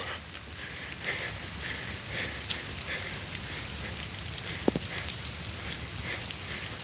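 Steady outdoor rain falling during a walk, a dense even patter of drops on surfaces with a few louder close splats, continuous and fairly soft with no talking.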